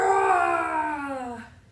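A voice drones a long descending, groaning hum, imitating a washing machine churning, fading out at the end.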